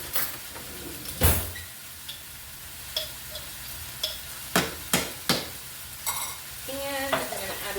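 Eggs frying in a pan with hoisin sauce, a steady sizzle under scattered sharp clinks and scrapes of a utensil stirring, close and fairly quiet, with no talk.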